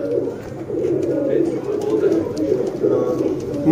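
Black-faced Bature pigeons coo in a low, continuous warble close by, the soft throaty calls overlapping for the whole stretch.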